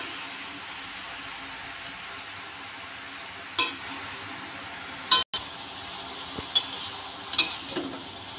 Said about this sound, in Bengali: শাকগুলো পেঁয়াজের সাথে ভালো করে নেড়ে চেড়ে নেব।